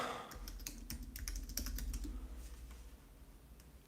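Rapid keystrokes on a computer keyboard while searching online for an Olight pen, a busy run of close, crisp clicks with a steady low hum underneath and no talking.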